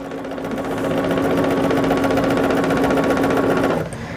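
Sewing machine running steadily while stitching quilt fabric for a woodland quilt made from half yards, a continuous loud mechanical whir with rapid even stitching that stops abruptly near the end.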